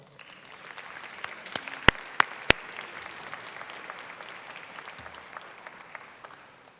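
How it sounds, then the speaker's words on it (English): An audience at a school board meeting applauds parents and administrators from Cypress Ranch with steady, moderately distant clapping throughout, punctuated by a few sharp, louder claps near the middle. "we'll give you a big round of applause as well."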